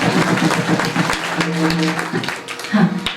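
An audience claps at a Marathi kirtan, a close and uneven burst of hand claps mixed with sustained tones from a harmonium or singing and scattered voices.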